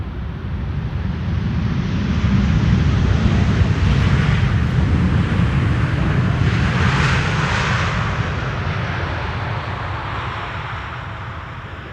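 A Boeing 787-10 Dreamliner lands on the Polderbaan runway at Amsterdam Schiphol, a loud, continuous engine roar that swells as it passes close by and then slowly fades.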